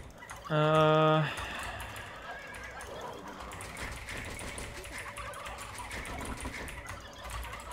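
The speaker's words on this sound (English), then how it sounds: "Excuse all the clicking, I'm just kind of practicing with my keyboard." Keys click on a computer keyboard during a game of Age of Empires II, a faint, steady patter of light taps running under low background sound after a brief tonal in-game chime.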